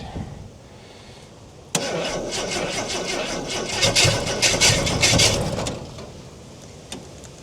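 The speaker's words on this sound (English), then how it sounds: "Probably a bugger to start when they were new in the cold like this." A 1968 Ford Falcon engine, started cold with the choke, cranks briefly, then catches and runs rough and loud for several seconds before dropping back and falling quiet.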